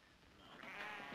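A sheep bleats once on a ranch, a faint, wavering cry that swells in the latter half of the moment over quiet background hiss.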